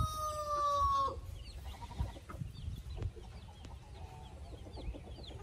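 Silkie hens clucking while leading their chicks out to forage on grass, with a rooster crowing near the start and scattered soft clucks and chick peeps over a low outdoor rumble.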